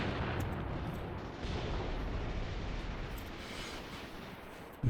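A distant artillery barrage of 15-centimetre shells in Graviteam Tactics rumbles continuously as a low, washing roar with faint scattered thumps, ending in a sharper close impact.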